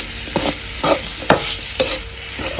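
A spoon scrapes and stirs a cluster fig vegetable dish frying in a pan with crushed peanuts, about five distinct stirring strokes over a steady low sizzle, close and with no talking.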